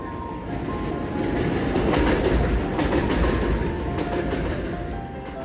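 An L Line subway train passes close by trackside, a loud continuous rumble of wheels and cars with clattering rail noise building and holding throughout.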